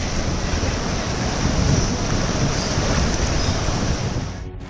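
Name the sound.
high-tide waves crashing at Marine Drive, Mumbai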